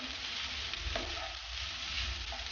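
Minced ginger frying in hot oil for a Peruvian chaufa, with a dense, continuous sizzle and crackle that stays steady and close throughout, without any voices.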